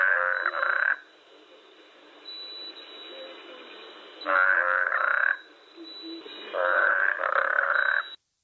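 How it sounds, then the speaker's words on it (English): A toad croaks in three long, throaty trilling calls separated by quieter pauses, close and clear with no voices. "Toad."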